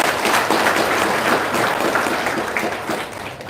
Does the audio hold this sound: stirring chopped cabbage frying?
no